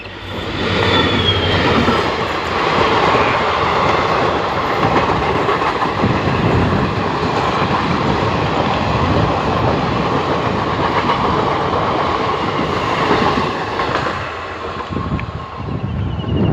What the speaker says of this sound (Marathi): हे बघा रेल्वे ट्रॅकवर रेल्वे आलेली आहे